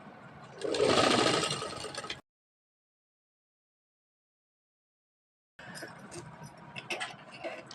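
A sewing machine stitches a kaftan made from an old dupatta, its close, fairly loud run breaking off abruptly into silence and then resuming with a busier, clattering stitch.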